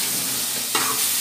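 Onion, tomato, carrot and capsicum being stirred in a frying pan. A steady close sizzle carries a single sharp scrape of the spoon near the end.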